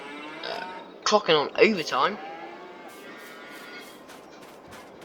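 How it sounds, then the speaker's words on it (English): Cattle moo in the Farming Simulator 22 video game, with a few drawn-out lowing calls over a quiet farm background while a person talks. "Here's the cattle. We have about, I think we have 60 cattle, I think he said."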